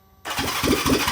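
Honda CB360T motorcycle engine that has sat unused for years firing into life after silence, catching abruptly and settling into a loud, uneven, pulsing run close to the microphone.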